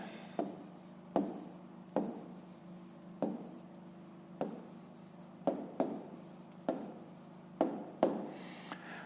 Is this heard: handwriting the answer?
yes